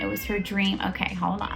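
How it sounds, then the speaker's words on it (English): A pet cat meows in short rising and falling calls, close and clear, mixed in with someone talking over it. "that's my cat"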